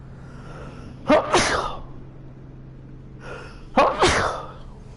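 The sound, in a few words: sneeze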